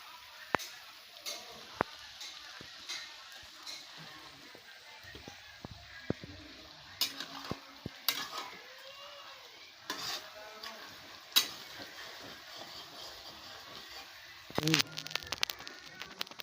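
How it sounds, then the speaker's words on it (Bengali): Meat and onions frying in a pot at a home cook-up, a quiet sizzle broken by sharp scraping and tapping of a stirring spoon against the metal, scattered clinks throughout. "দেখো আমাদের মাংস এখানে দিচ্ছে, পেঁয়াজ ভাজা হয়ে গেল।"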